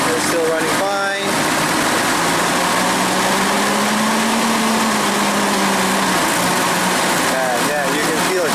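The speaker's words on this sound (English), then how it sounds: "as soon as I hit the throttle, right, it goes at higher RPM, there would be a point that it would just bog down" A Hyster forklift engine with low power runs loud and close, held at higher RPM as it strains and bogs down into a sagging drone, with brief speech near the start and end.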